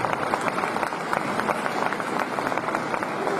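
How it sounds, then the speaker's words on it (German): An arena audience claps for the winning women's doubles pair at the 2018 German badminton championships, a dense, steady wash of applause sustained from start to finish. "Und ihr dürft drüber klatschen jetzt nochmal für die beiden"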